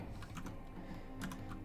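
Computer keyboard keys on a key trainer get struck in quick, uneven bursts of sharp clicks over a low background hum, close and moderately loud.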